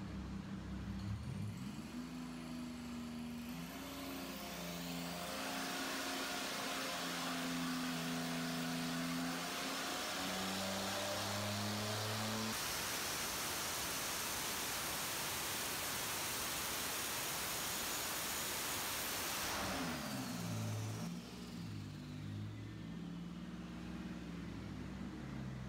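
Compound-boosted Buick 3800 L32 engine, turbo on top of the supercharger, on a dyno pull: loud climbing harmonics rising through the gears, a roaring full-throttle stretch, then falling revs and settling, close and continuous.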